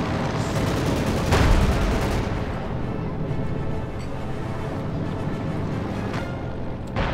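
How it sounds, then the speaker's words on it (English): Flak Panzer artillery firing in the Company of Heroes 2 strategy game: dense, continuous rumbling battle noise with a heavier blast near the start, loud and steady throughout. "a flak panzer artillery going off"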